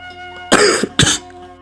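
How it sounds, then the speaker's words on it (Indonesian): Two harsh coughs in quick succession, close and loud, over a faint steady hum in the background. "sampai terbatuk-batuk"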